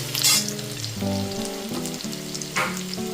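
Mushrooms and diced potatoes frying in a pan, a steady close sizzle with stirring scrapes, background music underneath.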